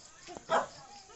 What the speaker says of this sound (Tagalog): Di ako makalapit kay may aso akong dala